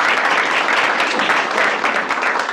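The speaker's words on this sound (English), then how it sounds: "let's give them a round of applause" A crowd at a team meeting applauding, a dense, steady patter of many hands clapping together at close range for a couple of seconds, with no break.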